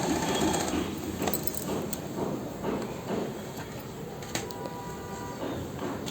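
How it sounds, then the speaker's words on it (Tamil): A sewing machine stitches two lace sleeve pieces together, running with a steady mechanical whir and faint rhythmic ticking at low volume, with no talk over it. "இது ஜாயின் பண்ணிவிட்டு 2 ஸ்டிச் போட்டுக்கோங்க."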